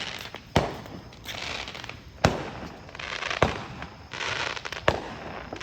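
Fourth of July fireworks burst in a few loud, sharp pops, each followed by a spreading crackle and hiss. The bangs come at irregular intervals over a steady background of sizzling and fizzing.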